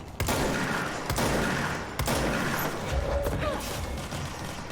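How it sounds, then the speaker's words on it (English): Bursts of video game gunfire from Control crackle in rapid volleys, several sharp cracks spread across the stretch, with a player's voice reacting over the shooting. "Oh my god, that sounds like gunfire."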